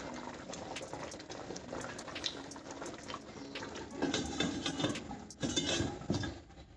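Chicken curry with potatoes simmering under a closed pot lid, a steady soft bubbling with occasional louder pops and light rattles of the pot.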